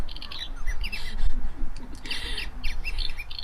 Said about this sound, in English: you could often hear birds chirping